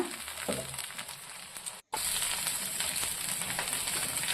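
Onions sautéing in a pan with a sprig of curry leaves, a steady close sizzle with a faint scrape early on and a brief cut near the middle.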